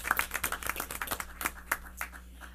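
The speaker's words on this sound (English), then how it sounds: "So let's give Simone a wonderful recognition applause for her accomplishment." An audience at a school board meeting gives faint, scattered applause, a loose patter of individual claps from a small, quiet room.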